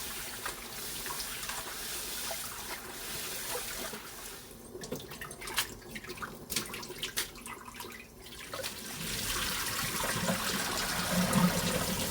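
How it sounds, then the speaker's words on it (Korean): Seaweed (miyeok) being rinsed in running water, a steady wash of splashing and trickling with brief clinks in the middle, fairly close and alone without voices. "미역은 씻어줄게요"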